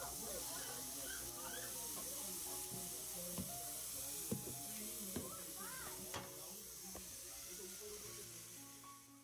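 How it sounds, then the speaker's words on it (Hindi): Microwave-warmed kebabs sizzle on a bed of onion rings in a very hot cast iron pan, giving a steady, faint hiss and crackle with a few sharp pops spread across it. "मैंने अपना कास्ट आयरन का पैन सुपर हॉट किया, उसके ऊपर मैंने प्याज के लच्छों का बेड बनाया और माइक्रोवेव में गर्म किए हुए कबाब ऊपर से डाल दिए"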